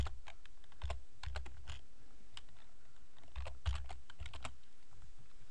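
A computer keyboard is typed on in irregular bursts of close, crisp key clicks over a low steady hum, with short pauses between words.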